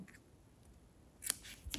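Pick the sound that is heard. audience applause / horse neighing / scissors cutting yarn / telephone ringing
scissors cutting yarn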